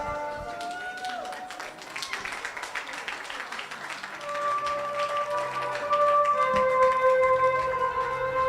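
A standing audience at a Purple For Prematurity Summit applauds, with dense, steady clapping that swells louder toward the end while tonal music plays alongside.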